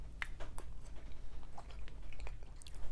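Someone chews a mouthful of Pennsylvania Dutch potato filling up close, with soft, wet, squishy bites in an irregular rhythm and no talking.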